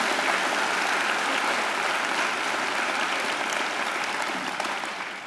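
Sustained applause from a large audience at a university graduation ceremony, a dense wash of clapping in a big hall that stays full and even before slowly tapering.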